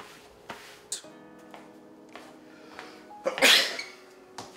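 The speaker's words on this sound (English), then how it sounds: "Did you just sneeze on me?" A single sharp human sneeze at a dinner of homemade chicken Alfredo, loud and close, preceded by quiet clicks and a few faint sounds in a calm room.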